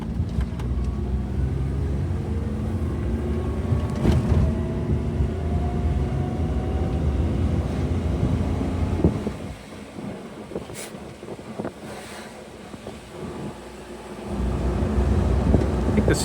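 A lifted Suzuki Jimny JA22 on upsized tires pulls away and drives on a road, a steady close engine and road rumble with wind buffeting the microphone, dropping quieter for a few seconds before rising again.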